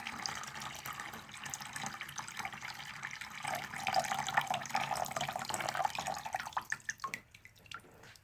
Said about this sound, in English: I'm placing water in the saucer